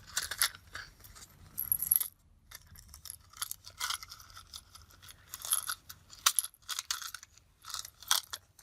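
Small craft bell handled on a tabletop for a Christmas junk journal project, giving bright little jingles and metallic clinks in irregular bursts, close and fairly faint.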